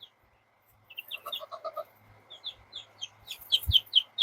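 Ten-day-old Araucana chicks chirp in quick, high peeps while jumping for mealworms, bursts of several calls close by, with a faint thump and a little background noise.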